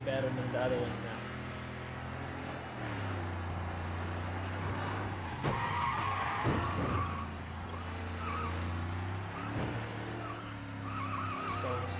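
Car tires skid and squeal on a slippery road in the Mafia Definitive Edition game, long screeching slides over a steady engine drone, with someone talking across it.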